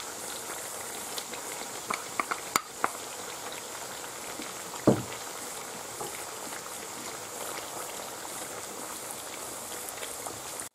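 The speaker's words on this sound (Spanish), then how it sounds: "echamos el calabacín con las patatas para que se fría todo junto." Zucchini and potatoes fry together in hot oil in a pan for a Spanish tortilla, a steady soft bubbling sizzle with a few brief clicks and one sharp knock, close and moderate in level, no speech.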